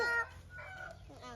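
A rooster crows close by, loud at first and fading after a fraction of a second, with a few fainter clucking calls following.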